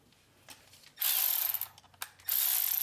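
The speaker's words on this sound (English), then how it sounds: "So now we're going to tighten the bolts for it." Ratchet tightening bolts on a VW Jetta rear door window regulator, a few faint clicks followed by two loud bursts of rapid ratcheting close up.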